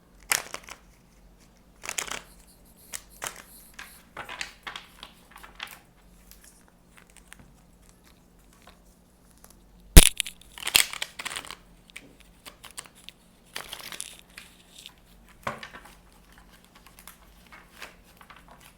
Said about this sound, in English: Trying to get a good shuffle in.